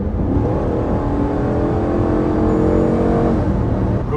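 A 2025 Dodge Durango base trim with its 3.6-litre Pentastar V6 revs steadily and loudly up close, a sustained engine drone with rising harmonics lasting the whole stretch, no talking over it.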